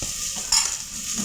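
Chopped garlic and ginger fry in a pan with a steady, close sizzle, broken by a short burst of stirring scrape near the middle.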